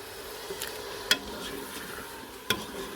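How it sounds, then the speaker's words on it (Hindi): Mutton for shahi korma sautés over a full flame, giving a soft, steady sizzle broken by two sharp clinks of a spoon against the pan. "अभी इसको हमने फुल आंच पे इसको अच्छे से भूनना है"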